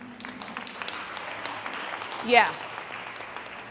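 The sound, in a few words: audience clapping at a women's conference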